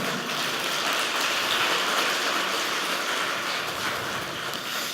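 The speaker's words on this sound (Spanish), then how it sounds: "Denle el aplauso al Señor, por favor, fuerte." Steady, dense applause from a church conference congregation in Mexico City fills the room evenly and loudly for the whole stretch, with no voices over it.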